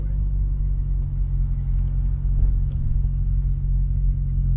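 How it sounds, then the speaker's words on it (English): Cars pass on a wet, rainy road, a steady low rumble of engines and tires heard from inside a stopped car, continuous and fairly loud with no talking. "there's cars coming and I don't have the right of way"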